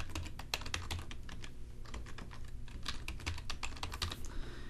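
Fingers type a password on a computer keyboard, a steady run of close, crisp key clicks with slight irregular spacing and no talking.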